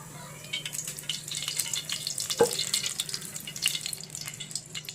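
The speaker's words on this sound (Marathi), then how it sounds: "पहिल्यांदा आपण कढईमध्ये टाकणार आहे तेल" Oil heats in a kadhai with a soft continuous hiss and crackle, broken by a single sharp clink midway.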